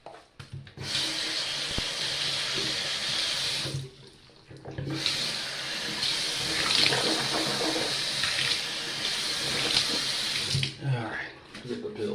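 A tap runs into a bathroom sink for rinsing during a bedtime routine, a steady close hiss of flowing water with a short pause partway through, and a voice speaks faintly under it.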